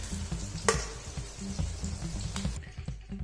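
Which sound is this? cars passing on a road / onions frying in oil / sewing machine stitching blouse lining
onions frying in oil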